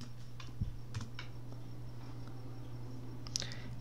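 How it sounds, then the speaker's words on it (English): Keys tap on a computer keyboard in a few scattered, faint clicks over a low steady hum, with no talking. "you press the letter I on your keyboard"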